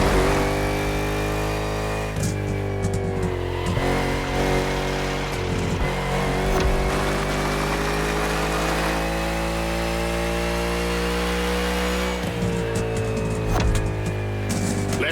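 A NASCAR stock car engine in The Crew Motorfest holds a loud, steady droning roar with shifting pitch, revving up and easing back several times, with a brief dip midway and a fresh surge near the end.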